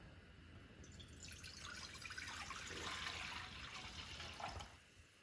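700 grams of water pours steadily into a pot on the stove with a rushing, splashing hiss that swells, then tapers off after about five seconds; no talking.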